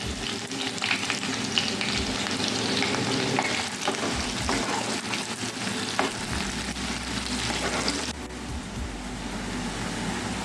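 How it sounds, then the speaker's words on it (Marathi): Long-sliced onion frying in oil with three dried red chillies, bay leaf, cardamom and cinnamon for chicken kosha, a dense loud sizzle heard up close with scraping stirs throughout and a brief drop near the end. "आता त्याच्यात आपण लांब कापलेला कांदा टाकून घेऊया."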